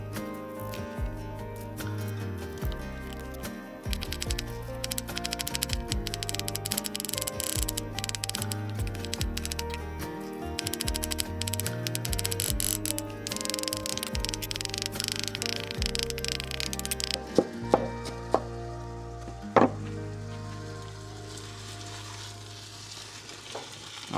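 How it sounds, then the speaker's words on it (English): A knife finely dices onion and garlic on a board while cooking at a camp beside a truck, giving a steady run of quick, close, crisp taps that thin out into a few sharper strikes near the end. "for today I will dice them finely with a knife instead of using the"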